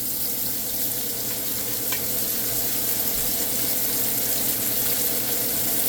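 Steak frying in a pan with thyme and butter gives a steady, close broadband sizzle that runs unbroken the whole time, with no one speaking.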